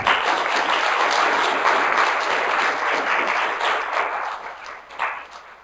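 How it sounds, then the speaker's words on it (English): Steady audience applause for panelists at a public meeting on breast cancer drug development, full and even at first, then gradually thinning and fading toward the end. "So I'd like to ask everyone to give our panelists a round of applause."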